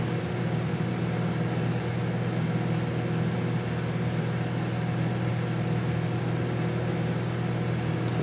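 A microwave oven hums steadily while running with a mushroom cooking inside, a constant loud drone with faint crackling sizzle barely above it.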